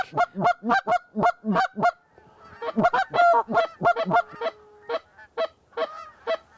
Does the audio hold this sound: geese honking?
yes